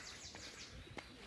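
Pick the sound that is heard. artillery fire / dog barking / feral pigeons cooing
feral pigeons cooing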